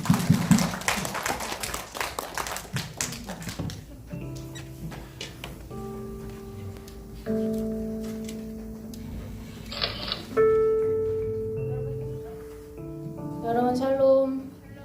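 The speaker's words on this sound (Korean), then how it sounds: "박수." A church middle-school youth group bursts into brief, dense clapping at the start, which quickly fades out as tonal sounds and voices take over.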